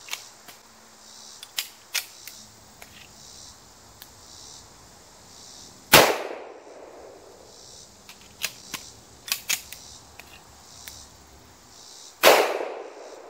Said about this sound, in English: Magazine number two will be shot with one hand.